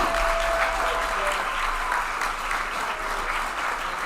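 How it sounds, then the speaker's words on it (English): Steady applause from an audience at a disability mentoring day reception fills the whole stretch, a dense, even clatter of many hands clapping without pause. "let's give a big round of applause for Mia."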